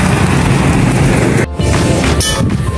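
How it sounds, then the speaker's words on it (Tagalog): Loud, steady rain pours down on the way to a church, with a close hissing wash broken by a brief dip and a couple of soft knocks partway through. "pero umuulan na."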